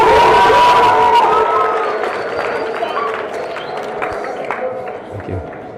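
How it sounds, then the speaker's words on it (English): A conference audience at a youth leadership event claps and cheers in a loud burst that slowly tapers off, with a sustained tone and voices mixed in. "doesn't he deserve a better clap than that?"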